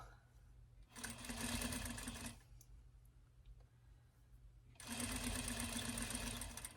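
A sewing machine stitches through six layers of fabric for a bumble bee dress, running in two steady, loud bursts of rapid mechanical whirring separated by a quieter pause.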